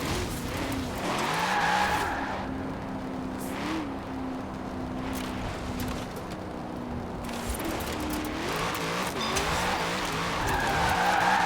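Chevrolet C8 Corvette, mid-engine, drifting in Forza Horizon 4: a continuous loud roar of engine and howling tire squeal, the pitch wavering as the car slides, with no break across the clip.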